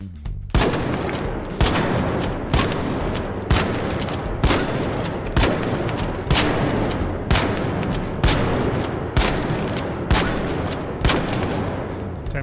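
El Toro gun firing in the video game Arc Raiders: a steady run of about twelve loud, booming shots evenly spaced roughly a second apart, close and heavy, each with a short decaying tail and no talking.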